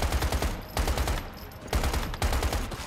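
Rapid automatic gunfire in the survival shooter Once Human, several loud close bursts of fast shots with short pauses between them and no talk.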